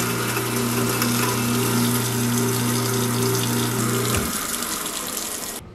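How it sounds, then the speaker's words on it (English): Kitchen garbage disposal running with warm water in a sink, a steady loud motor hum with water rushing over it that cuts off abruptly near the end, leaving a softer flow. "And now I'm going to turn the disposal on."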